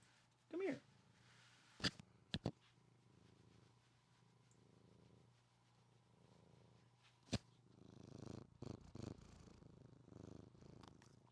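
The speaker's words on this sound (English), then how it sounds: "Listen to that purr." A pet cat purrs softly and steadily, close by but faint, while someone speaks intermittently and a few sharp knocks and handling noises cut in.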